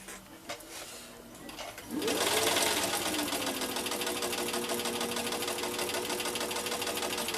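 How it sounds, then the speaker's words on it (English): Singer 1591 sewing machine starting up after a quiet moment, then running at a fast, steady clattering pace through the rest, close and fairly loud. "Then we'll try to sew."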